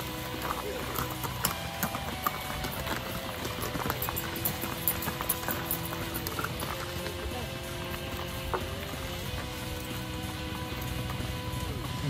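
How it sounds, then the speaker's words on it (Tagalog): Horses carrying loads clip-clop steadily along a mountain road near Dorado, Laguna. The hooves sound close and continuous, with faint talk and background noise around them. "Yung mga kabayo dito."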